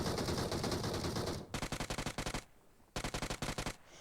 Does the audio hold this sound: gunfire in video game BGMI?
yes